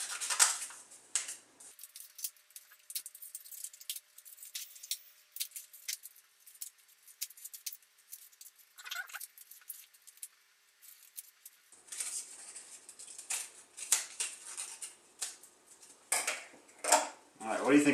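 Scissors cutting through paper loops, with intermittent crisp snips and rustles that come in scattered bursts and pause for a stretch in the middle, close by with little else around.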